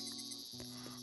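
Steady insect-like buzzing of cicadas in Animal Crossing, a dense high drone that carries on unbroken through the whole short moment, moderately loud with no voices.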